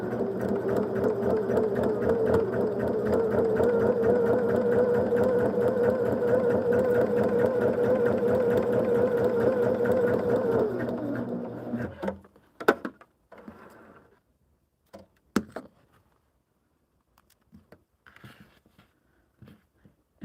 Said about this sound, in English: we're going to sew on this line between 1 and 2